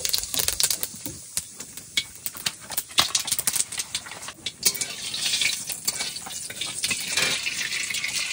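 Cumin seeds sizzle in hot oil in a wok, cooked aboard a large boat on the Matla river; a steady, close crackling hiss runs throughout with frequent sharp pops and no voices.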